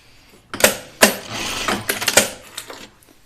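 A sewing machine edge-stitches fabric in short mechanical bursts, rapid chattering runs separated by brief pauses, loud and close with no speech.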